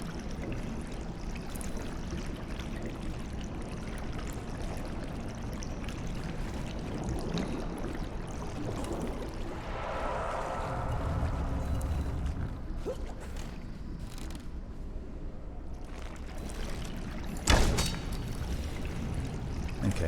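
Water rising and flowing in the Conan Exiles video game: a steady, fairly quiet rushing and trickling wash runs throughout, with a brief clunk near the end and no voices.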